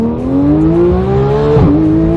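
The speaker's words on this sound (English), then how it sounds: "Let's feel how this car pulls from 20 miles an hour in first" A Porsche 911 GT3 Street Cup pulling hard in first gear, its engine note climbing steadily and loudly from close range, then dropping abruptly as it shifts.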